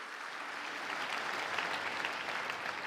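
A church congregation applauds steadily throughout a sermon, dense and fairly distant clapping with no break.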